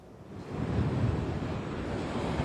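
Storm surge waves roll onto Ocean Isle Beach near high tide under a tornado warning, a steady low roar of surf mixed with wind buffeting the microphone.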